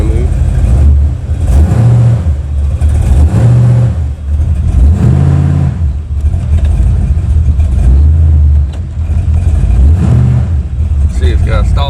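1980 Malibu big block barn-find engine revving hard in repeated surges as the car tries to move, loud and close, with throttle rising and falling in waves.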